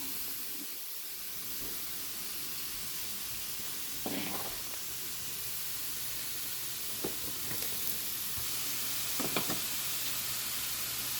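Carrots fry in a pan with a steady, broad hiss of sizzling oil, while a few soft scrapes and knocks mark the stirring.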